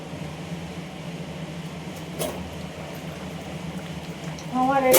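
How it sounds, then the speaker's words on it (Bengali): Elephant foot yam and prawn curry boils in a pot, giving a steady, close bubbling simmer that holds evenly throughout, with a brief louder stir of noise near the end. "ভালো করে ফুটুক।"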